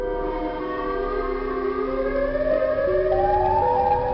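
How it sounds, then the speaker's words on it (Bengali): The Siren Head creature in the video game GTA 5 lets out a long civil-defense-style siren wail, several layered tones sliding slowly upward and wavering, sustained and fairly loud with no voices over it. "এই ওয়ার্ল্ডে একটা বিশাল বড় সাইরেন হেড আছে, যেটা অনেক বড় এবং ওর মাথা দিয়ে অদ্ভুত আওয়াজও বেরোয়।"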